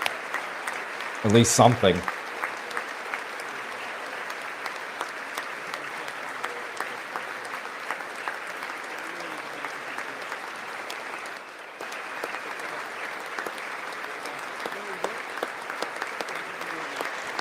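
Applause at the President's State of the Union speech, a sustained wash of clapping from a large audience that runs the full length at moderate level, with one brief loud burst near the start and a voice talking early on.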